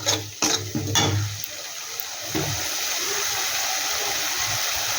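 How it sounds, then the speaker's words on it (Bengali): A bowl being rinsed under running water in a home kitchen while a Bengali hilsa recipe is prepared: a few splashy clatters at first, then a steady, moderately loud stream of pouring water. "বাটিটা ধুয়ে একটু আমি জল দিয়ে দিচ্ছি।"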